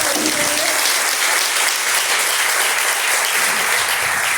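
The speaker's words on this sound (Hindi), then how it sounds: "एक बार जोरदार तालियां" Loud, dense applause from an audience fills a college NCC girls' battalion ceremony in Lucknow, a steady wash of many hands clapping that holds evenly throughout.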